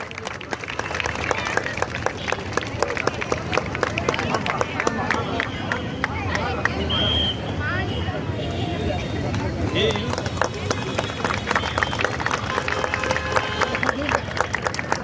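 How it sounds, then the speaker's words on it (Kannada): An audience claps and cheers loudly at a Karnataka Rajyotsava flag hoisting in Sandur, a dense, steady crowd applause with a murmur of voices running through the whole stretch. "ಜೋರಾದ ಚಪ್ಪಾಳೆಯೊಂದಿಗೆ ಸಭಿಕರು"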